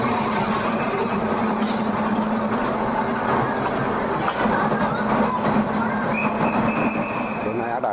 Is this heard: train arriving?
yes